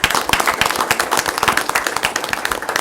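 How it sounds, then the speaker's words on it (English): A room full of people at a city commission meeting claps steadily for the Vital Statistics Department: dense, continuous applause close by that holds at an even level throughout. "So how about a round of applause for our Vital Statistics Department?"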